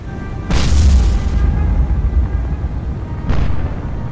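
Naval gun fire from a War on the Sea warship, small-calibre guns: two loud booming shots roughly three seconds apart, the first a heavy blast with a rumbling tail, over a steady low engine drone.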